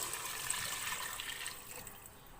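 Water is poured steadily into a cooking pot holding meat and softened tomatoes, a continuous rushing splash that tapers slightly toward the end.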